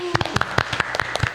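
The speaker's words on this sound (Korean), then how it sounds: "우, 박수!" Scattered hand claps in a small studio group at the start of a Korean building-owners' talk show segment, a handful of sharp, uneven claps close by with some voices mixed in.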